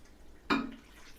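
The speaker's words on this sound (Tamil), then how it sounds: "ஒரு டம்ளர் தண்ணி ஊற்றுறேன்பா." Water from a tumbler is poured into a pot of spicy Chettinad chicken gravy on the stove, making one short, close splash and slosh that quickly settles, with no talking.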